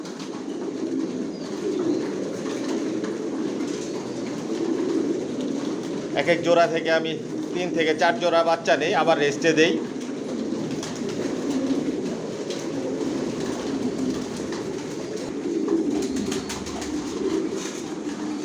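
Racer pigeons coo softly and continuously in a loft, a low steady murmur of several birds. Someone speaks in the middle of the stretch, and the cooing runs under and around his talk.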